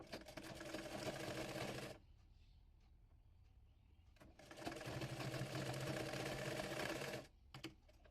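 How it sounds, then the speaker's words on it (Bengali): A domestic sewing machine stitches the armhole of a baby frock in two steady bursts of fast, continuous whirring, close and loud, separated by a quieter pause with faint handling sounds. "একইভাবে অপর পাশের আরমোলটিও সেলাই করে নেব।"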